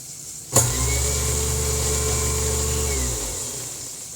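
A newly installed kitchen garbage disposal switches on with a thump and runs as a steady, loud, close motor hum with a low droning tone, then winds down near the end; no talking.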